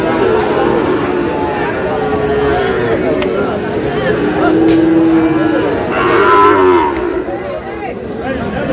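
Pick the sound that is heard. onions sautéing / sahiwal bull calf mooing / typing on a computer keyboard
sahiwal bull calf mooing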